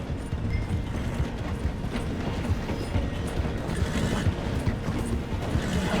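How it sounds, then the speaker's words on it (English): A train rolls slowly through a station in the video game Red Dead Redemption 2, a steady rumbling clatter of wheels on rails that stays loud and continuous throughout. "The train is slowing down to go through the station."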